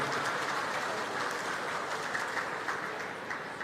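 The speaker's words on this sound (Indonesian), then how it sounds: "Tepuk tangan untuk beliau berdua." A large crowd at a Nuzulul Qur'an commemoration applauds steadily, dense clapping that fades slightly toward the end.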